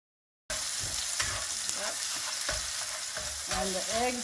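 Eggs frying in a pan for a low-carb breakfast, with a steady sizzle throughout and scattered scraping and stirring clicks, close and continuous after a brief silent start.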